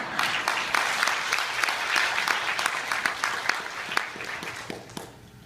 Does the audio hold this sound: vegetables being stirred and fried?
no